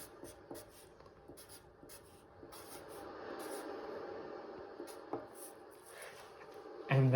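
Handwriting a thank-you note, soft scratchy pen or marker strokes on paper in short irregular bursts, close and quiet, with a louder knock or scrape at the very end.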